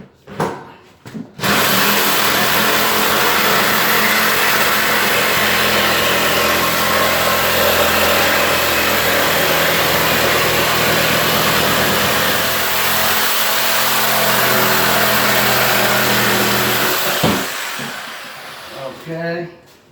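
A reciprocating saw cuts through a kitchen countertop in a loud, sustained buzzing run of about fifteen seconds that starts abruptly and stops near the end.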